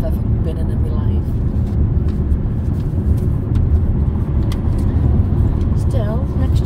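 Cabin of a moving car, a loud steady rumble of engine and road noise that fills the whole stretch, with people talking over it throughout.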